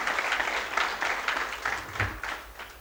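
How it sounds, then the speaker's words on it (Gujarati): Applause from an audience at a public event welcoming a speaker, a dense rolling patter of many hands clapping in a hall, fairly loud and continuous throughout. "જોરદાર તાળીથી પહેલાં વધારી"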